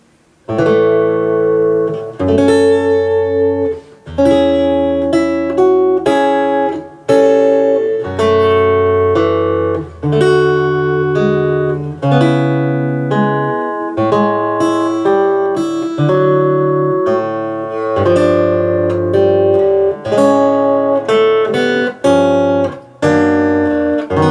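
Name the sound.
fingerstyle guitar melody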